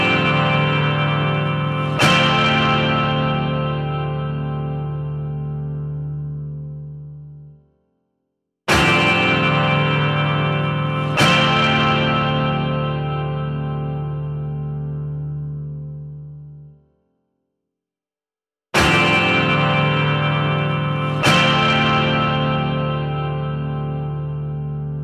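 A recreated famous chord on guitar rings out three times, each strike a bright, full chord with a quick double attack that sustains loudly and decays over about six seconds before a short silence.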